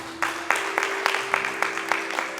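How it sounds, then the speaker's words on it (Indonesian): Rhythmic clapping from a congregation at a Sunday church service, even beats roughly every quarter second over a sustained musical tone. "Tepuk tangan untuk Tuhan"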